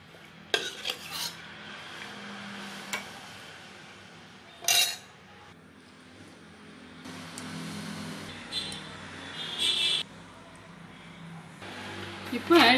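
A metal ladle scrapes and clinks around inside a pot of drumstick leaf soup, with intermittent sharper knocks against the rim, fairly close.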